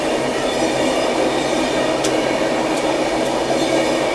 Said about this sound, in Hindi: रांची आनंद विहार झारखंड संपर्क क्रांति एक्सप्रेस